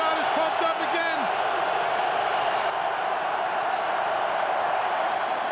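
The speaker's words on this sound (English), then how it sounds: "Well, this crowd is pumped up again." Roaring stadium crowd at an NFL game between the New York Giants and Washington Redskins, a loud sustained wash of cheering that stays constant throughout, with a voice briefly heard early on.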